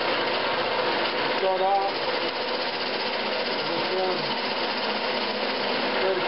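A woodturning lathe hums and scrapes steadily while a tool hollows out a shopmade vacuum chuck. A continuous mid-level cutting and motor noise runs throughout, and someone speaks briefly over it.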